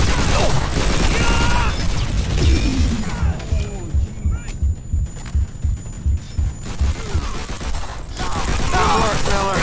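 A machine gun nest firing in the World War II shooter Call of Duty: World at War, loud rhythmic bursts of heavy thumping shots in the middle, with shouting voices before and after.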